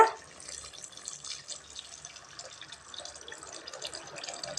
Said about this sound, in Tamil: புளி தண்ணி கரைச்சி எடுத்து வச்சுருக்கிறத இப்போ இதை சேர்த்துக்கலாங்க.